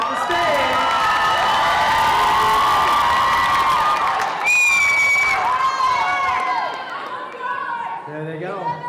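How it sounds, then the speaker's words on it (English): A school idol singing contest audience cheers, whoops and claps loudly as the contestants leave the stage, a dense sustained crowd roar with excited shouting that thins slightly toward the end. "let's give a round of applause one more time as they exit the stage"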